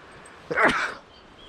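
A single person's sneeze, one short sharp burst close to the microphone, with quiet room tone around it.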